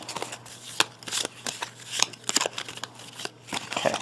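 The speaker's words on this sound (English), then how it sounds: "Now we're going to shuffle his deck up just a little bit and give him 3 more cards." A deck of cards is shuffled at a table during a game of Clank! in Space, giving soft, quick papery riffles and rustles in short bursts over about four seconds, close and fairly quiet.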